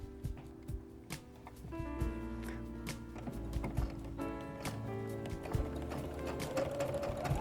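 An SG-9000 sewing machine stitches fabric with a steady mechanical whir and rapid ticking needle strokes, close up and continuous, with a low motor hum underneath.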